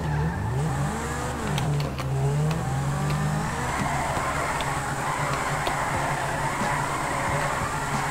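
A car drifts on the handbrake in the video game GTA 5, with engine revs rising and falling and a long tire squeal and skid that carry on steadily to the end, no voices.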